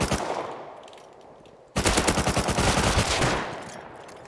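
Automatic gunfire in the video game Rust: a rapid burst that trails off, then a sharper, louder string of closely spaced shots.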